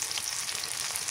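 Ginger and onion paste frying in hot oil with cumin paste for a goat and green banana curry, a close, bright crackling sizzle with small fluttering pops, no voices.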